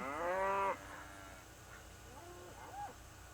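A single loud moo from cattle in a pen at weaning, followed by quieter, softer calls from other animals farther off.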